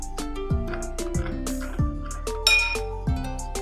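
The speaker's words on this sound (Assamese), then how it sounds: "পানী দি পেষ্টখিনি বনাই লৈছোঁ" A spoon clinks lightly and repeatedly against a bowl while spice paste is stirred with water, quick bright taps in an uneven rhythm, close and fairly quiet.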